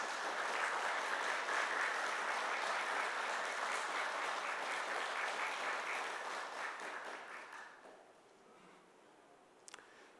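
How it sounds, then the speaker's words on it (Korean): An audience claps steadily at a Korean ceremony marking Mid-sized Enterprise Day. The full, even applause holds for about eight seconds, then quickly dies away, leaving a few scattered sounds. "여러분 고마운 마음을 잔뜩 담아 박수 한번 쳐주십시오."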